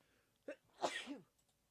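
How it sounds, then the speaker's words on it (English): A single sharp human sneeze, a short inhaled catch followed by a loud explosive burst, close to the microphone in an otherwise quiet room. "Here's one of me just fucking sneezing."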